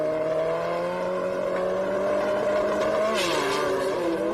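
Import drag racing cars running side by side at a bracket race, a loud sustained engine roar with a steady droning pitch that dips and shifts near the end, continuous and close.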